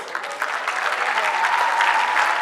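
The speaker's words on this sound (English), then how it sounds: "I would request all of you to kindly give us a round of applause for your teachers." At a graduation day ceremony, the audience claps steadily for the teachers, the applause dense and even and slowly building in loudness.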